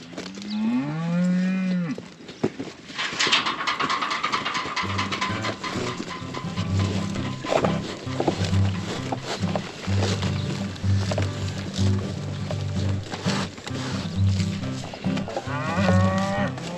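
Cattle bellow and moo loudly as they are turned out onto grass, with one long, close call followed by a dense, overlapping chorus of lowing from the herd that runs on steadily.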